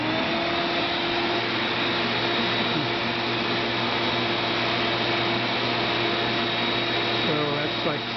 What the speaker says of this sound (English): I'll give you an idea of the noise compared to this rigid shop vac.